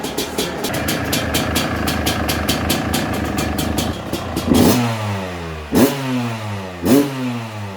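Fantic two-stroke motorcycle engine, close and loud, with a rapid rattling idle that gives way to three sharp rising revs, each falling away before the next.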